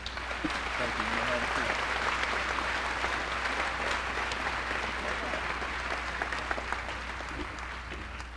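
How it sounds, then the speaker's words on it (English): An audience gives a final round of applause for outstanding seniors at a high school academic recognition ceremony, a steady, full crowd clapping with little change in level. "One final round of applause for the outstanding seniors."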